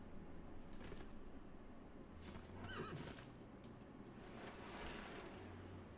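Horses neigh and whinny several times over faint clip-clopping hooves in a video game match, quiet and slightly distant.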